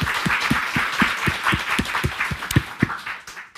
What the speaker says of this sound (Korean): 박수로 예수님 경배드리겠습니다